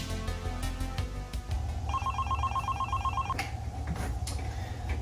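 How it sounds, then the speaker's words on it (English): A telephone at a video rental shop rings with one rapid electronic trill lasting about a second and a half, clear and close over a low background hum. "Now back to Elijah as he shows you how to answer a phone call."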